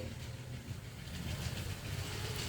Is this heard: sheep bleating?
no